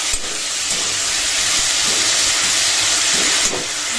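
Food fries in a pan in a home kitchen, a steady broadband sizzling hiss with a couple of faint clinks and no voices.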